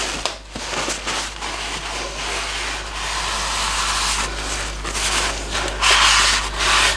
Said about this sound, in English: I've just got some clean white towel just to give this a bit of a quick wipe round